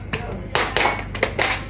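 A classroom group plays an ice-breaking clapping game, tepuk salut, producing a handful of sharp, close group claps in a short pattern against a noisy room.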